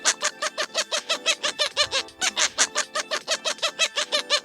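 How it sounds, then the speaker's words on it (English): A fictional land-dwelling sea creature gives a rapid string of small chirps, regular and evenly spaced, bright and fairly close, continuing without pause and with no talking over it. "they make little chirping sounds, which is kind of cute"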